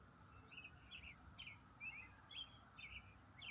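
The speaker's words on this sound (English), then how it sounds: "You can hear a few chirping. Those are robins." Robins chirp in short, bright repeated notes at a steady rhythm, fairly faint over low outdoor background noise.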